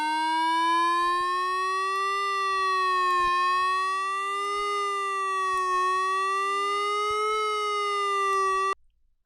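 A steady electronic siren alarm tone, coded with MakeCode, wails continuously with slight slow rises and falls in pitch, loud and close, then cuts off abruptly.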